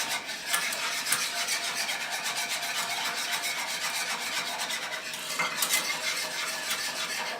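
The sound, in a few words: whisking chocolate sauce in a pan on low heat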